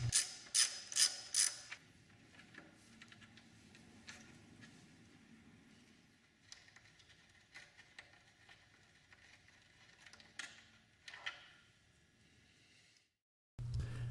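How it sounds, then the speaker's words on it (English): Allen bolts are backed out of the fork cover on a Honda Gold Wing GL1800 motorcycle, giving a few sharp ratcheting clicks at the start, then quieter scattered metallic fiddling and handling sounds, with a brief pause near the end. "Next, remove the 2 5mm Allen bolts that are holding the fork cover in place."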